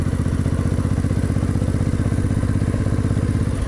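A motorcycle with a sidecar rolls across an empty parking lot, its engine chugging in a steady, fast, loud rhythm close by, with a faint clatter over the low throb and no one talking.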